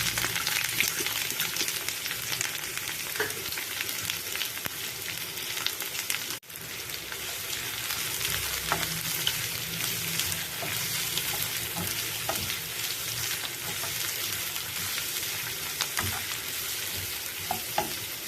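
Steady sizzling of onions and garlic frying in hot oil, close and continuous, with occasional stirring scrapes and no talking.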